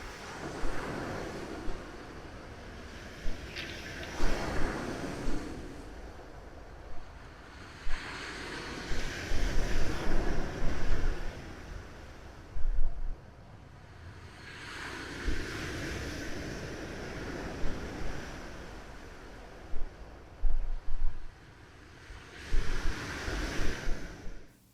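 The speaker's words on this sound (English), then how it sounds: "you actually hear the rocks tumbling through the force of the ocean" Ocean waves break repeatedly on a rocky Nova Scotia shore at Marie Joseph, with rocks tumbling in the surf. Loud, rushing swells arrive every few seconds with rattling clatter between them, all under steady wind noise and with no voices.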